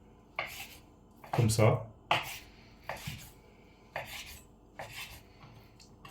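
A knife chops potatoes and fish into small pieces on a board, giving about seven sharp, close knocks at an uneven pace. A voice speaks briefly in French over the chopping.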